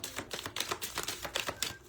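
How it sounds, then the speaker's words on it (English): Tarot cards shuffled by hand, a quick stream of crisp papery flicks and snaps at steady, moderate loudness for about two seconds. "Last shuffle."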